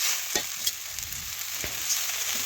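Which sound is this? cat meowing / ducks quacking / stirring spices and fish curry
stirring spices and fish curry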